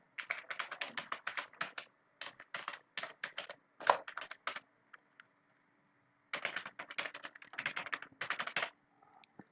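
Typing on a computer keyboard, entering a short line of text: bursts of quick, close key taps with brief pauses between words and a longer gap mid-way before typing resumes.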